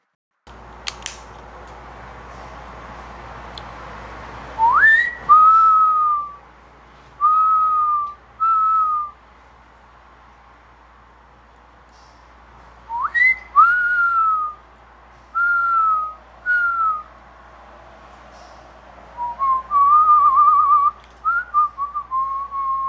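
A person whistles an imitation of a mourning dove: two series of soft rising-then-falling cooing notes, each a longer opening call followed by three shorter ones, clear and close with near silence between.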